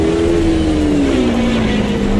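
Maserati MC12 engine in the racing game Assetto Corsa, a steady loud droning note that slowly falls in pitch, continuous and close, with no talk.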